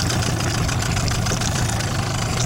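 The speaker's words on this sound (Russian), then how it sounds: "Сейчас еще раз замерим скорость с Ямашкой 15-й" A Yamaha 15 outboard motor, stock with no tuning, runs steadily on a Flagman 350 boat carrying two people, with a dense, continuous loud drone throughout.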